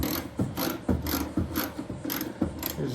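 Fastener being snugged tight on a 2024 GMC Sierra 2500 wheel well liner, a quick series of close ratcheting clicks and creaks in an uneven rhythm, with no talking.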